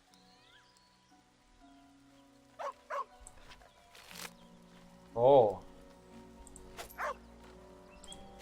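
A dog in the Baldur's Gate 3 video game lets out a few short barks and yips, a sharp louder woof near the middle, among quiet game ambience with a brief spoken word.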